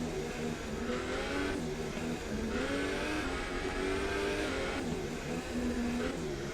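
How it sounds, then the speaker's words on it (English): A race car in a racing video game accelerates off a turn with a steady, sustained engine whine that climbs through its gears, close and continuous, with no talking. "getting a good bit of acceleration there off the turn"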